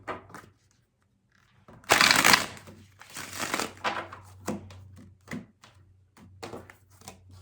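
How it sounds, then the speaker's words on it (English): Close-up shuffling of a deck of cards: a burst of riffling followed by irregular papery flicks and taps, no voices. "every time I seem to shuffle this deck"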